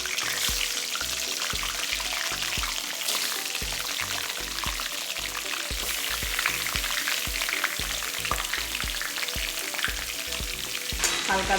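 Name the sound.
chicken drumsticks frying in oil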